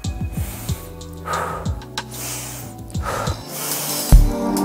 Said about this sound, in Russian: пожалуйста, начинаем дышать